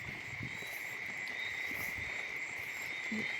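Frogs croak steadily at night, a dense chorus of close and distant calls over a constant high insect-like drone, with no voices.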